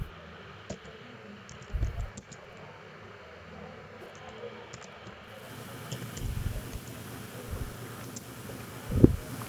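Light clicking keystrokes on a computer keyboard while HTML code is typed, soft and intermittent over a steady breathy background hiss, with a few louder thumps.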